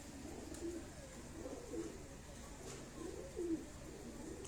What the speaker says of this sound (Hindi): ये कबूतर जिसको आप देख रहे हैं